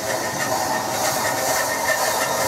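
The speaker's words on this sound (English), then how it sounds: "The slightly periodic noise you're hearing is from the blade brush." A brass blade brush rubs on the lower wheel of a running Startrite bandsaw, giving a steady close hiss with a faint periodic pulsing and no speech.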